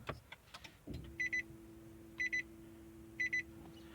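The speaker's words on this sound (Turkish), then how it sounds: "anahtar algılanmadı diye tabi içinde pil olmadığı için uyarı veriyor" A Nissan Qashqai J11 gives a key-not-detected warning when started with a key missing its battery: a soft click and low hum, then three evenly spaced pairs of sharp electronic beeps about a second apart, close and clear in a quiet cabin.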